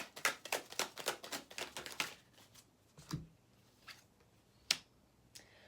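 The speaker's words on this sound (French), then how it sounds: "Je vais retirer une carte." A tarot card is drawn from a deck during a reading: a quick run of crisp shuffling clicks, then a few isolated soft snaps and taps, close and quiet.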